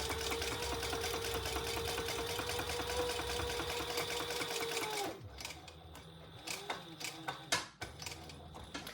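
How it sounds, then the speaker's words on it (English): A sewing machine bastes a shoulder bag in one steady, loud, close run of whirring stitches that stops abruptly after about five seconds and gives way to scattered handling clicks and taps. "I'm just gonna baste the sides closed."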